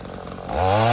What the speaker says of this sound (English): So thank God I had my chainsaw with me to able to cut them up and to make them smaller